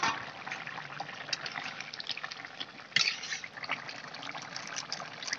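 Chicken curry simmers in a pot after water is poured in, a soft continuous bubbling and trickling hiss with one brief louder splash midway, fairly quiet and without talk.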